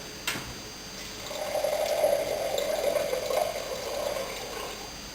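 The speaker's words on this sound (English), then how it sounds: "a little bit of hazy carbonation there from the pour" Sharps Autumn Red Ale being poured into a glass, a steady, moderately loud liquid rush that starts after a brief clink and runs for several seconds with no talking.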